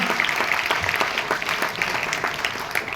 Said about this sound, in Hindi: तो एक बार वीसी सर के उत्साहवर्धन के लिए तालियां।